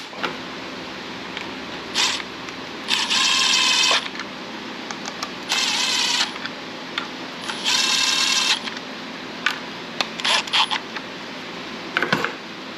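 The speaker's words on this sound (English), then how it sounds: "now we can go ahead and run these bolts in. I'm just turning them in." Bolts being turned in by hand during a BTR Truck Norris cam install on a junkyard LS engine in a 1992 Firebird, heard as several bursts of fast metallic ratcheting spaced between quieter clicks and handling noise, close and fairly loud.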